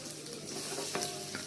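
Onion frying in oil in a kadhai (wok), a steady loud sizzle with occasional stirring scrapes throughout, no voices.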